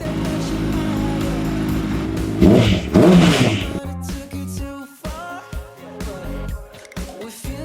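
A 2007 Honda CBR600RR track bike's engine revs hard up close, climbing in pitch and snapping through rapid quick-shifter gear changes, with the engine note dropping and rising again at each shift; no talk.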